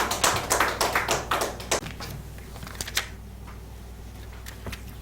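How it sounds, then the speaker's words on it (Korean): A small group in a lecture or class setting claps in a quick burst of dense, crisp hand claps that thins out and fades to a few scattered claps within a couple of seconds. "박수"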